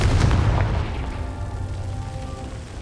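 Confringo blasting spell explosion in the Hogwarts Legacy video game, a loud booming burst at the start that rolls off into a fading rumbling tail.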